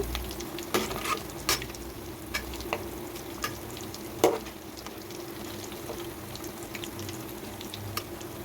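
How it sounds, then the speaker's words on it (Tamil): Bonda fritters deep-frying in hot oil give a steady close sizzle, broken by scattered sharp pops and crackles throughout, with no talking. "சூடான எண்ணெயில் போட்டுருங்க"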